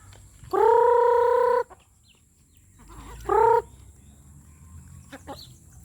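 Chickens and a slightly lame rooster call close by: one long loud drawn-out cry, then a shorter second call after a pause, with quiet background between.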